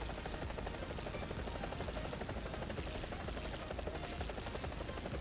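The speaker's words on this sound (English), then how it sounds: "I've had really lots of trouble with this chopper to get something done" An AH-1G attack helicopter in the War Thunder video game roars steadily with a dense, rapid rotor chop and engine whine that stays loud and unbroken throughout.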